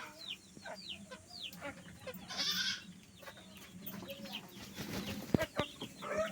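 Chickens cluck and chatter in short bursts, with a goat-like bleat mixed in, over a steady farmyard background; no talking.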